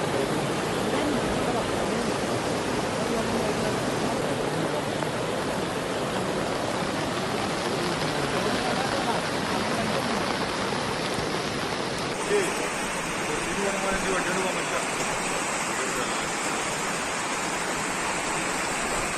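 Heavy monsoon rain pours down in Wayanad, Kerala, with rainwater rushing and flowing in a loud, steady broadband wash that continues alone, unbroken, from start to finish.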